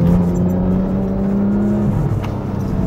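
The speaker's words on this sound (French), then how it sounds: "C'est vraiment un moteur qui aime les tours." Porsche 911 GT3 (991.1) naturally aspirated engine revving high, a loud steady droning tone that holds, then drops in pitch near the end.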